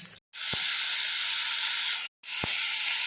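Tomato drops into hot oil already frying onion and dried chilies, bursting into a loud, steady sizzle that cuts out briefly twice, each restart marked by a soft thump.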